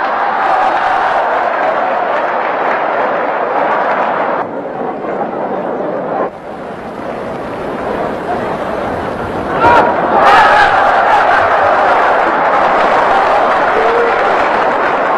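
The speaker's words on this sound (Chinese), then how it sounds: "让我们再以雷鸣般的掌声欢迎挑战者出场" A stage audience gives a long burst of thunderous applause and cheering as a boxing challenger is welcomed on in a comedy sketch. The dense clapping and crowd noise runs continuously, dipping briefly and then swelling again.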